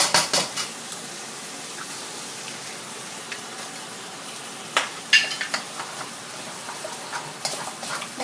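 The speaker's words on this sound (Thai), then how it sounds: "แล้วก็ใส่กับน้ำมันแล้วมาผัดกับหมู" Minced pork stir-fries in oil in a pan for a dry sukiyaki dish, a soft steady sizzle under sparse clinks and scrapes of a spatula against the pan, with no speech.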